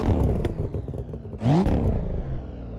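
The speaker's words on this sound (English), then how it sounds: "We've got a nice engine sound." Simulated Volvo S60R engine in a racing sim rig with carbon fiber hood, droning steadily with a brief rising rev burst midway, close and fairly loud.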